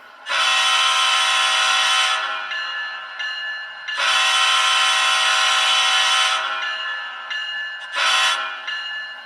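A Scaletrains CSX locomotive in HO scale sounds its horn: loud, bright multi-tone blasts, two long ones of about two seconds each and a short final toot, near and alone.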